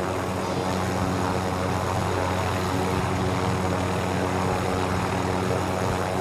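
Steady, loud rotor and engine drone of a helicopter flying in Call of Duty: Modern Warfare Warzone, a continuous whirring roar with no pauses, fairly close throughout.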